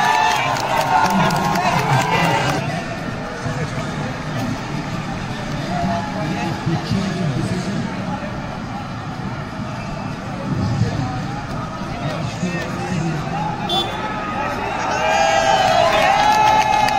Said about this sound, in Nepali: तालीको गडगडाहट मचिरहेको छ अहिले चौकासँगै तालीको गडगडाहट पनि गुन्जिएको छ भर्खरै